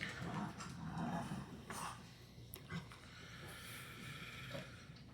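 Dogs indoors growl low and whimper intermittently nearby at a modest level, with a few throat-clearing-like sounds mixed in as someone works on an American 1100 lock.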